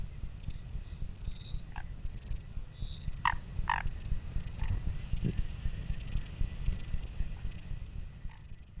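At night, a steady series of soft, evenly spaced frog croaks repeats over a low ambient rumble, with a few sharper chirps and clicks mixed in.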